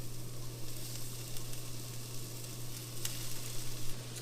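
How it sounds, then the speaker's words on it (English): Collard greens sauté with onions and garlic in a hot pan, giving a steady soft sizzle with a few faint crackles, continuous and fairly quiet, with a low electrical hum beneath. "now we're going to just start slowly adding in the greens to saute them first."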